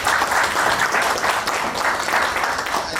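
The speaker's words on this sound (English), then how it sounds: "one round of applause for them" Steady round of applause from a group, dense clapping sustained and fairly loud throughout, with faint voices mixed underneath.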